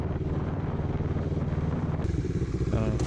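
CFMOTO NK650 big bike motorcycle engine rumbling steadily nearby in a roadside hangout spot, a continuous low drone with wind noise and people talking over it.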